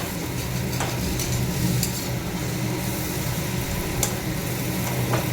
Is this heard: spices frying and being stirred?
yes